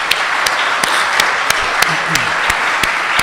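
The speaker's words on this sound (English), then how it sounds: "And a round of applause." Studio audience applause closing a theology discussion, steady close clapping with distinct individual claps throughout, brief and fairly loud.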